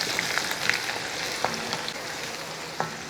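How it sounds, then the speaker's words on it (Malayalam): Shallots and dried red chillies frying in hot oil with fenugreek for a pulissery tempering, a steady close sizzle with occasional sharp pops and stirring clicks. "അപ്പോൾ ആ ഉള്ളി ഒന്ന് മൂക്കട്ടെ"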